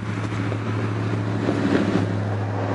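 Steady, heavy wind rumble buffeting the microphone in a backyard pumpkin patch, a dense low roar that stays loud and constant throughout with no voices.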